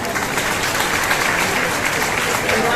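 A crowd at a house key distribution ceremony applauds loudly and steadily, with dense clapping that fills the whole moment.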